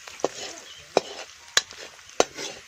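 Momo filling stirred in a pan after salt goes in, with four evenly spaced scrapes of a utensil against the pan over a soft sizzle of frying, close and moderately loud, with no talking.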